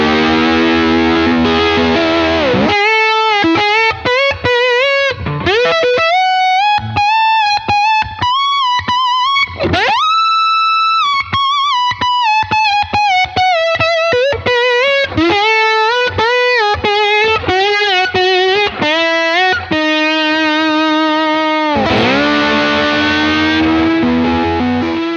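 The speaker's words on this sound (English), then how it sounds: "what we heard out of the amp sims on these UA guitar pedals" Electric guitar played through UAFX amp-simulator pedals with a little reverb, driven and distorted, with sustained slide-like notes and bends across a continuous, loud phrase with no talking.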